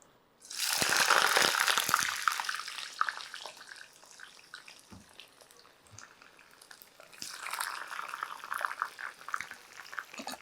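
Sliced eggplant dropped into hot oil for a Tamil-style thokku, a sudden loud hiss and crackle that settles into a softer bubbling sizzle, then swells again toward the end, close by.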